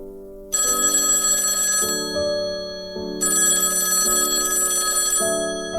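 A telephone rings in two long bursts with a short pause between them, a bright, repeating electronic ring tone heard clearly with no voices.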